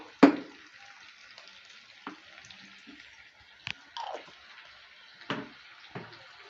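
Dry fruits stirred together with butter and honey in a bowl for a nut fruit cake: a few soft, sticky scrapes and wet squelches spaced irregularly, close up over a quiet background.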